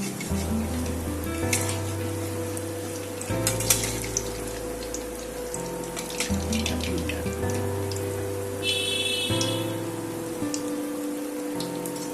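Malpua batter made with palm fruit fries in a pan with a steady bubbling sizzle, joined by sharp crackling pops and a few clinks partway through.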